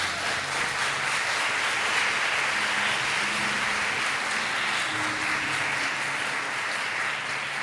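A congregation at a church service in Limeira applauds steadily and evenly for several seconds, dense and fairly close, with no voices over it.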